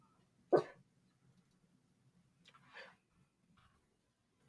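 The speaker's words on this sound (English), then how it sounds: "if you hear the little woof in the back, my little puppy wants me to go to bed" A small puppy gives a single short woof in the background, followed by a softer second yelp a couple of seconds later, both faint against a quiet room.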